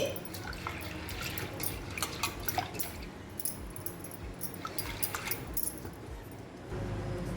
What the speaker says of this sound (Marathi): आपण त्याच्यात थोडं आता पाणी घालूया